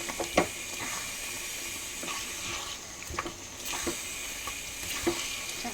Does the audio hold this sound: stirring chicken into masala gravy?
yes